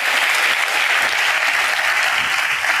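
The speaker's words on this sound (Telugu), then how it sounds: "చప్పట్లు కొడుతూ దేవునికి స్తోత్రాలు చెప్దాం." A church congregation claps hands in praise, a dense, loud, continuous wash of clapping that holds steady throughout with no voices on top.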